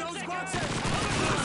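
A PPSh submachine gun rattles in the World War II shooter Call of Duty 2 on a Soviet mission, a dense burst of rapid shots under layered battlefield noise, with a voice briefly at the start.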